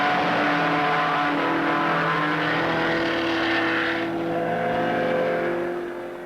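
Rally cars, including Escort GT and twin-cam cars, racing in a 1968 Finland rally figure-8 sprint, their engines roaring loudly and continuously as several cars rev and pass close by.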